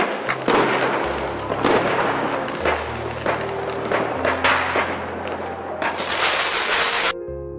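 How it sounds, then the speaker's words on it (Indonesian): Fireworks burst over a summer festival seen from a rooftop, a steady barrage of loud cracking explosions with crackling tails and booming low thuds, overlapping densely throughout before cutting off near the end. "Sesampainya di atap markas si Storm, mereka semua lalu menikmati kembang api itu."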